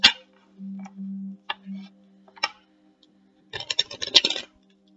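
Tarot cards shuffled by hand during a reading: a few soft, close taps and flicks, then a quick burst of rapid riffling near the end, over a low steady hum.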